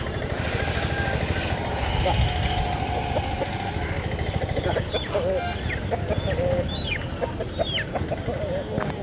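Roosters at a rural country-chicken market call and cluck in short bursts amid crowd chatter and a passing motorcycle engine, with people talking close by over the din.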